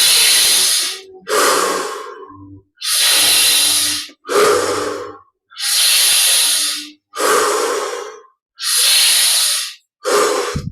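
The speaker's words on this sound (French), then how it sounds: "Dernière inspire." Deep breaths in a guided meditation, eight slow, loud inhales and exhales in steady alternation, each lasting around a second, close and alone with no talk.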